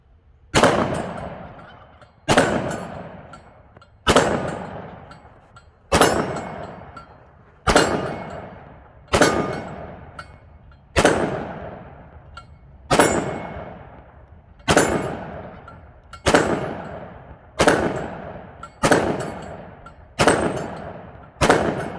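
A Smith & Wesson M&P 2.0 10mm pistol with a 4-inch barrel fires 175-grain Hornady Critical Duty rounds outdoors: about fourteen sharp, loud shots spaced steadily roughly one to two seconds apart, each with a decaying echo.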